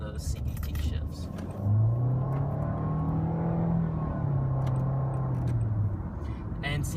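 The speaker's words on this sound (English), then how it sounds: "We'll do a quick little acceleration run right here in sport mode" A 2014 Nissan Altima 2.5 SV with a CVT pulls away in sport mode, its engine drone rising steadily from inside the cabin, a smooth sustained pitch climb with small stepped shifts, loud and continuous with faint cabin clatter.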